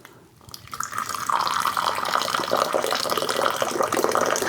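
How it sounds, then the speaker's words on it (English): Tea is poured from a high height during a gong fu tea session: a quiet moment gives way to a steady, splashy stream of liquid hitting a vessel, continuous and fairly loud to the end. "I'm going to be pouring this one from a high height,"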